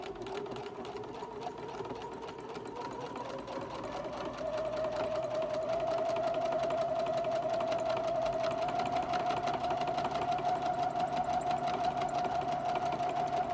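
Sewing machine stay stitching a newborn elf outfit, a continuous even hum of stitching that speeds up slightly partway through and holds steady, fairly quiet.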